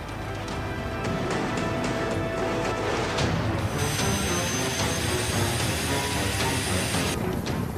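A Russian army military helicopter flying in a war zone, a steady loud broadband engine and rotor roar that holds constant throughout, with a brighter high-pitched whine joining partway through.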